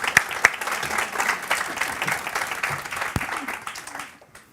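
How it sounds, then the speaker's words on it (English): Audience at a women's empowerment panel event breaks into warm applause, a dense patter of many hands with a few sharper claps, steady for about four seconds before fading out. "So can we just give them all a round of applause, please?"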